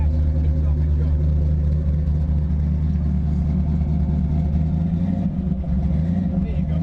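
A 1996 Chevy S-10 with a 350 V8 runs with a deep, steady engine rumble, loud and close, holding a fairly even level throughout with only a slight swell.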